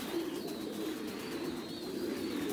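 Pigeons at a farm raising Thai Titan and American giant breeds coo softly and continuously, a low rolling chorus of several birds close by with a steady background hum.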